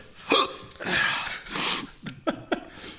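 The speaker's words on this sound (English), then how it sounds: "did not count on the hiccups as part of this" During a hot wings spice challenge, a person lets out several sharp hiccups at uneven intervals, close and fairly loud, with breathy gasps between them.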